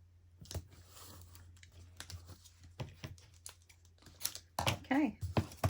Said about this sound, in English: So adding that tape.